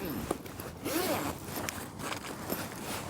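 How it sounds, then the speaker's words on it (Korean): A zipper is drawn open on a hybrid winter camping shelter tent, a steady close rasp of teeth with a few light scrapes and no talking. "이렇게 버클을 풀고 지퍼를 열어주면"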